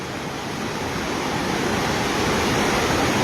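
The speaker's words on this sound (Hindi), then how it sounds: "देख पा रहे हैं कितना भयंकर पानी है" Floodwater from a swollen river after village flooding rushes in a steady, dense roar, loud and continuous with no voices over it.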